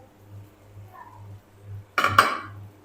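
A spoon stirs powdered red chili, turmeric and coriander into a cooking pan for aloo palak. A few sharp metal clinks against the pan come in a brief burst near the end, over a quiet low hum.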